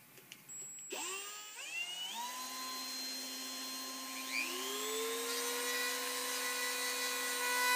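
A machined rivet gun nose is polished with Kratex abrasive on a rotary tool, giving a steady high whine that climbs in pitch as the tool spins up and holds, close and continuous, with no talking.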